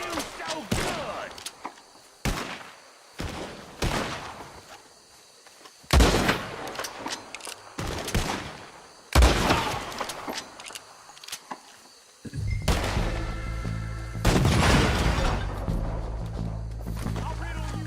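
Gunfire bursts out in Red Dead Redemption 2, loud shots in separate clusters with brief gaps, a sustained rumbling passage near the end, and voices shouting between shots.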